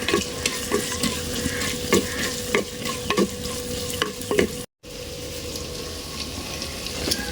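Onion and curry leaves frying in a pan with beef kala, a steady close sizzle broken by repeated scraping stirs, with a brief dropout partway through and no talking.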